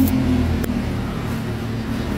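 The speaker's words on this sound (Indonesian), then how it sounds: "Kebetulan kita ada di pinggir jalan, jadi berisik" Steady roadside traffic rumble with a car engine passing close by, a continuous low drone filling the whole moment without pause.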